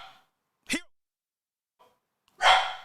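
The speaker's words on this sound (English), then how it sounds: "He was barking because the food's here." A dog gives a couple of sharp, separate barks indoors, close and fairly loud with quiet gaps between, as a food delivery arrives.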